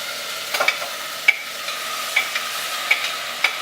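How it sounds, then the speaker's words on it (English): Smoked tomato chutney ingredients sizzle steadily in a hot pan, with a few sharp clicks and scrapes of a utensil stirring. "You can hear that stuff going right into the pan."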